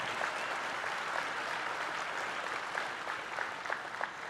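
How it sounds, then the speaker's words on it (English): Applause from a gala audience at a leadership awards ceremony, steady dense clapping throughout with no voices, fairly soft and at a moderate distance. "Please give them all a round of applause."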